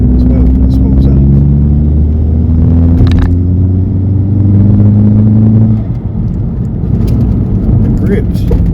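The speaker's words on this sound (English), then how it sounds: "that turbo sport sounds very good as well. It spools up." A Mk4 VW Golf GTI, a 20-year-old car, with its turbo engine spooling up: a loud, steady engine drone with rising whine tones running through most of the stretch, while people talk over it.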